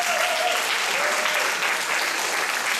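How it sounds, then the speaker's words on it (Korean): A congregation at a church prayer gathering claps steadily, dense sustained applause filling the space without a break. "사실상 여러분들은 모든 부모님들이 다 박수를 받아야 돼요."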